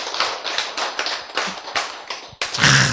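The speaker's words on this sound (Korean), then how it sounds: "이 내 자신의 선택의 박수를 한번 보냅시다." An audience at a Korean NewStart health lecture claps in quick, irregular bursts, then breaks into a louder burst of applause near the end.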